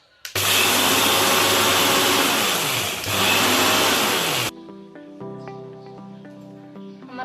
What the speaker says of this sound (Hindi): अब इसमें हम धनिया डाल रहे हैं, थोड़ा थोड़ा करके धनिया को पीस लूंगी